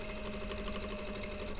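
A sewing machine runs continuously at a steady, fast stitching rhythm while sewing the lining of a bomber jacket, close and even throughout with no talk.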